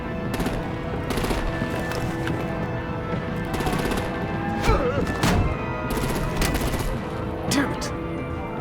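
Gunfire and artillery in the Batman: The Enemy Within video game form a dense, continuous rattle of automatic fire, with heavier thumps around the middle and later moments, all beneath game dialogue and background score.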